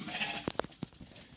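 Sheep from a flock of about 25 animals offered for sale on a farm in Alagoas, bleating in several short, close calls, interleaved over a steady background hum with no speech.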